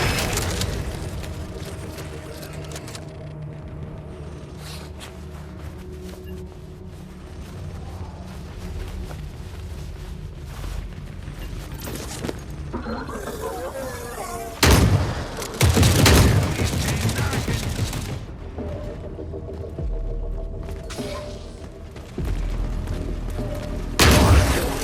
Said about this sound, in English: I fired my first shot in the game so far